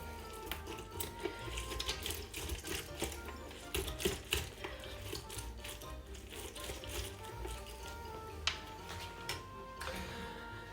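Water poured into a pan for Seville orange marmalade, a steady splashing trickle running continuously at moderate distance with a few sharper drips and taps.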